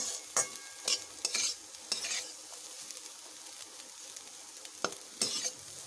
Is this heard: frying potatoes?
yes